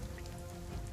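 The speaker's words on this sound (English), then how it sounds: "large amount of drips coming from the trees" Dense patter of rain dripping from trees in the last moments after a storm in a video game, a steady wet spatter throughout with no voices.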